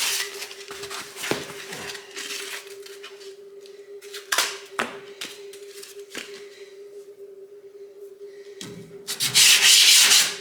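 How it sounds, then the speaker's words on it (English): A sanding block loaded with 120-grit paper is rubbed by hand over body filler on a vehicle panel, making close, raspy scraping strokes in irregular bursts that end in a louder flurry, with a steady hum underneath. "I'm going to run a block over it and see what she looks like."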